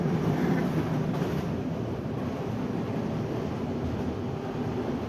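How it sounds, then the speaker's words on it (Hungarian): A Hungarian passenger train moving at high speed, heard from inside as a steady, loud rumbling roar of wheels and carriage that holds even and unbroken throughout, with no voices. "Olyan írtó sebességre gerjedt a vonat, azt hittem, hogy lejtőn lefelé vagyunk"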